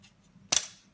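A single sharp snip as plastic sprue from a Bandai 1/144 Star Wars Millennium Falcon model kit is cut, one crisp close click in an otherwise quiet room.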